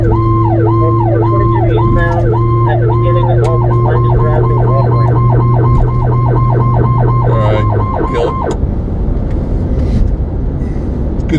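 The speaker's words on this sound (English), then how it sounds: "good siren work there." An emergency vehicle responding to a traffic accident sounds a loud siren wailing in a rapid repeating yelp over a steady low horn-like tone, then cuts off, leaving road noise.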